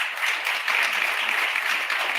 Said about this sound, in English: So let's give all of them together a big round of applause.